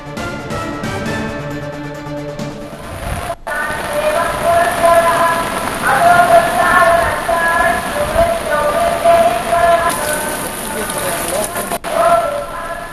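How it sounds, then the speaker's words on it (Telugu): Heavy rain pours continuously at Tirumala Tirupati in a dense steady hiss, with a faint voice and tonal sounds mixed in underneath. "తిరుమల తిరుపతిలో కూడా వాన కంటిన్యూస్గా పడుతోంది అస్సలు తెరిపివ్వట్లేదు"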